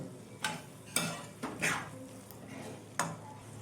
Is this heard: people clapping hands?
no